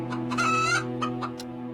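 A cartoon hen clucks in a string of quick, bright squawks over a steady tonal hum, with no talk alongside.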